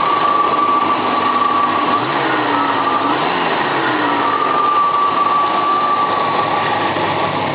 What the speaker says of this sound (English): the automatic choke is giving it a lot of petrol, but see if I can rev it.